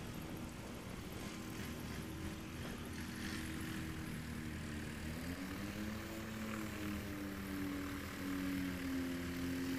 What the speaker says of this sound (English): That does sound like one of those Apex engines.